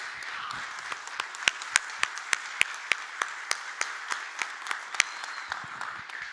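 Clapping in a seated audience, with a fairly steady rhythm of sharp, distinct claps rising out of a soft background wash. It sounds moderately close and stays at an even level for several seconds.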